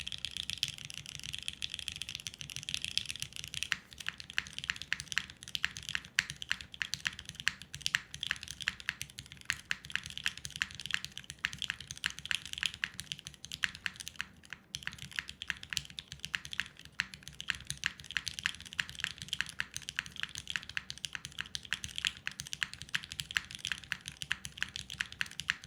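Steady, fast typing on a mechanical computer keyboard fitted with short switches rather than long-pole ones, with dense clacking keystrokes and spacebar presses running continuously and close up, with no talking.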